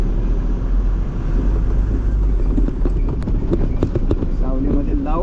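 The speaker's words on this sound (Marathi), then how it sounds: "गाडी आता जरा घुमून सावलीत लावतो" A truck's engine rumbles low and steadily as it turns to park in the shade near Navi Mumbai's Nhava Sheva area, with scattered knocks and clatters and a voice speaking near the end.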